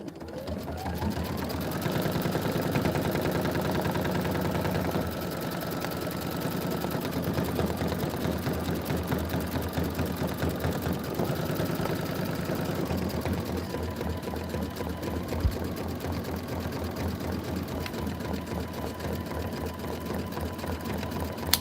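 An embroidery machine stitches a Kimberbell Sippin on Sunshine design, its needle hammering in a fast, steady mechanical whir that runs loud and close from start to finish.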